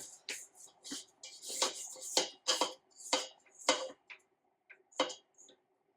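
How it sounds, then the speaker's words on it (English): A spatula scrapes down the sides of a mixing bowl of creamed butter and sugar, making a series of short scraping and clinking strokes in an irregular rhythm, separated by brief quiet gaps. "I'm just going to scrape down the sides of our bowl"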